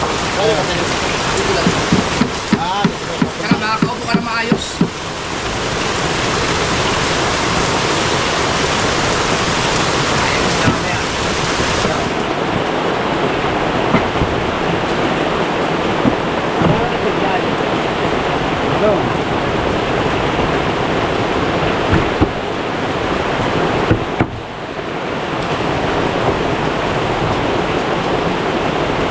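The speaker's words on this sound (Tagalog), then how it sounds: "Grabe, ang lakas na ulan." Heavy rain pours steadily in a dense, constant roar throughout, with a voice speaking briefly early on.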